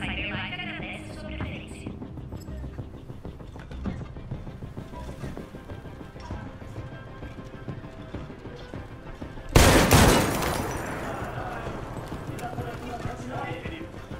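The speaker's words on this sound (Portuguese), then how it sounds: "Assustei agora com esse tiro." A single loud gunshot in the video game Detroit: Become Human bursts out midway, sharp and near, with a brief echoing tail over game sounds and hoofbeat-like clopping.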